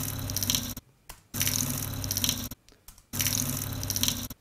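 Bursts of a rushing, watery noise repeat in a slow stop-start pattern, a sample time-stretched by a 50% tempo change, each chunk smeared and stretched with an odd, grainy texture between short gaps.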